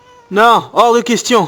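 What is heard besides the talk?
cat meowing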